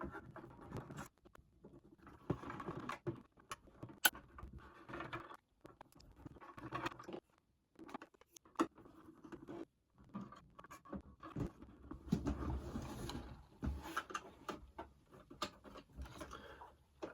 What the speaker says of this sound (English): I'm just going to get the screws out first